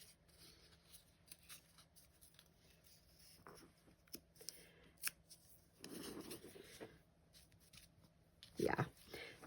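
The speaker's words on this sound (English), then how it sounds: "Maybe kind of just keep tearing a little bit." Paper book pages being torn by hand in small, slow rips, quiet close crackling and scratchy tears scattered through, with one sharper louder tear near the end.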